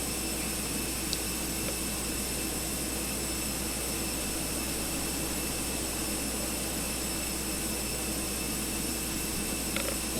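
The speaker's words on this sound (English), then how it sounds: "attach the pushback tug" Constant whine and roar of an idling jet airliner at the gate during a pushback tug hookup in a flight simulator game, a steady unbroken engine drone with faint tones and no speech.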